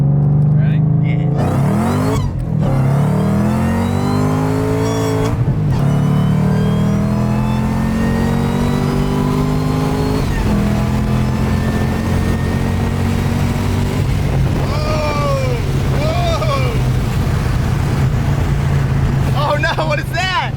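Roadster accelerating hard in a race against an 800whp Mustang, loud engine roar climbing through repeated gear shifts, heard from inside the car with people talking over it.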